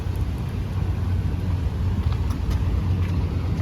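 Cars idle with a steady low rumble while boarding the Jamestown-Scotland Ferry, a continuous near engine drone with a few faint clanks and no talk.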